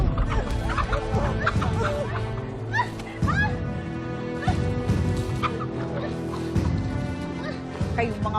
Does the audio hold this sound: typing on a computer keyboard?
no